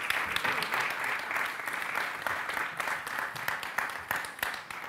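An audience at a creative economy and contemporary crafts forum in Valencia applauds steadily, a fairly soft, even wash of clapping throughout with no speech over it.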